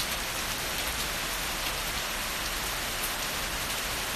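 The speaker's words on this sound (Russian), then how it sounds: "лил дождь, я первый раз вижу." Heavy rain pours outside in a dense, unbroken hiss that stays loud and even from start to finish, with no voices.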